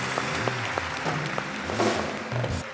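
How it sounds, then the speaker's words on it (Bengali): A studio audience at a Bengali TV comedy show claps in a burst of steady applause, fairly close and loud, with a few voices and whoops mixed in. "জয় হাততালি পরাণ বন্দ্যোপাধ্যায়ের জন্য"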